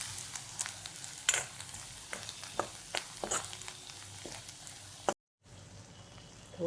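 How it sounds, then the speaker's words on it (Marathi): A paste of coconut, garlic and coriander frying in a pan with cumin, mustard seeds and asafoetida, giving a quiet sizzle and crackle with intermittent stirring scrapes, then a short break. "आपण खोबरं, लसूण आणि कोथिंबीर केलेली पेस्ट चांगली परतून घ्यायची."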